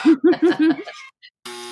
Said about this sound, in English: Ooh, the harsh buzzer.